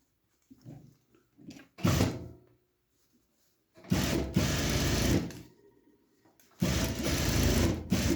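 A sewing machine stitches a pleat on work overalls in three running bursts, the longer later ones steady and fairly close, with quiet handling sounds in the pauses.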